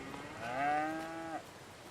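A single cow on a farm gives one drawn-out moo lasting about a second, rising and then falling, moderately near and fairly quiet, with no talking.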